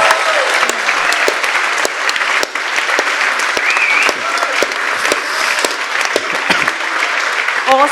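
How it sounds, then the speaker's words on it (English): An audience at a Rouleur Live 2022 cycling panel breaks into sustained, full applause, close and dense with a few scattered cheers rising through the clapping. "So can we have a big round of applause?"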